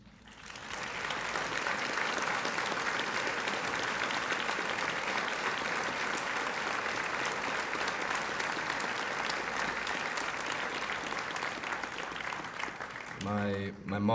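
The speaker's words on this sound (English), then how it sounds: "if everyone could just give my family over here a round of applause" A high school audience breaks into sustained, dense applause that holds steady for many seconds and then fades as a voice begins speaking at the end.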